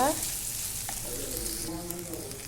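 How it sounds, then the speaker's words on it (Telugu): Ivy gourd pieces frying in oil in a pan, a steady close sizzle running throughout, with a few faint sung or tonal voice traces in the background. "బాగా నూనెలోనే ఫ్రై అవ్వాలి"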